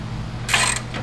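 Tightening the steering rod shaft on a TroyBilt riding lawn mower: a brief close metallic ratcheting burst from a hand tool over a low steady hum, about a quarter second long.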